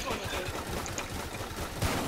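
Suppressed gunfire rattles in Tower Defense Simulator, a dense, steady stream of muffled game shots that runs throughout at moderate loudness.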